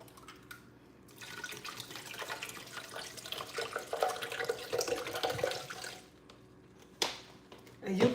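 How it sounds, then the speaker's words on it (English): Water poured into a container for an aloe drink, a moderate rushing pour lasting several seconds before tapering off, followed by a few brief clunks and a faint voice. "I'm gonna pour water inside."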